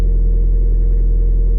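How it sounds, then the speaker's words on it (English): A car engine idles and holds raised revs as the gas pedal is pressed during clutch-control practice, a loud, steady low rumble close by with no talk over it. "You can add a bit of gas, get those revs up,"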